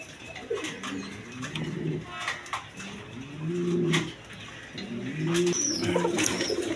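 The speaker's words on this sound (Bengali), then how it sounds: "পেয়ার আমেরিকান লার্ক কবুতর আছে, লার্ক নুরালবার্গ লার্ক কয়" A pair of American Lark pigeons coo in repeated low, throaty phrases with short pauses between them. They are fairly close but not loud, and faint rustling and chirps sound in the background.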